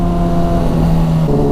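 A 2012 Honda CBR600RR sport motorcycle with a Toce aftermarket exhaust idles with a deep, steady rumble and a slight shift in pitch, loud and close, with no other sounds.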